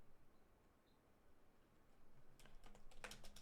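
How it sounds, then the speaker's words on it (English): Quick typing on a computer keyboard, a short run of close, crisp key clicks in a quiet room, arriving after a near-silent stretch. "Let me move this mic so I can actually type"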